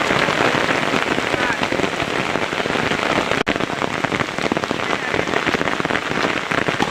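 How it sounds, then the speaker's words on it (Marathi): Heavy rain pours down steadily on a cricket match, a dense continuous hiss of drops drumming on surfaces, loud and close throughout. "पाऊस देखील जोरात आला आहे बघा"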